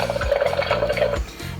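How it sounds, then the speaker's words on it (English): A busy sizzling, bubbling noise like oil frying from a toy food truck's sound effect, with a steady crackle over a low hum, cutting off briefly near the end. "the other one sounds like either oil frying or water boiling"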